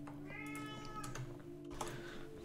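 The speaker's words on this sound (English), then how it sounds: "Apologies if you heard a meow in the background there, that was my cat." A pet cat meows softly in the background of a room, one drawn-out, wavering meow followed by a shorter call, faint against a low steady hum with a few light clicks.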